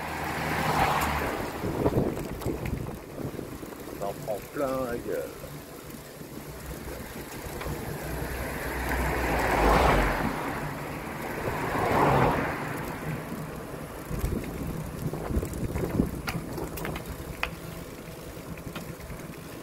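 Strong wind buffets the microphone in heavy, rumbling gusts that swell and fade, stirring up dead leaves, with a brief spoken remark partway through.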